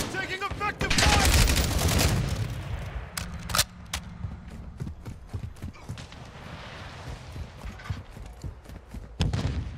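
Gunfire in a shooter video game: a dense loud volley at the start, followed by scattered sharp shots and rapid clattering bursts, with hoofbeat-like clopping and voices talking over it.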